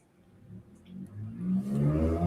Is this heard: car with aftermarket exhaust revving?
yes